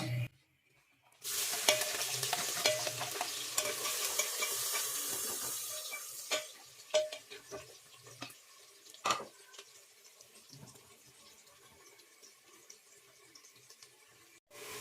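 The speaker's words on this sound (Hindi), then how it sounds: "फुल गर्म ऑयल में अगर आप प्याज डालेंगे तो प्याज अच्छी तरह हल हो जाता है सब्ज़ी में।" Onions drop into very hot oil for karhi and set off a loud, bright sizzle that gradually settles. Scattered clinks and stirring knocks follow, then the frying fades to a quieter crackle.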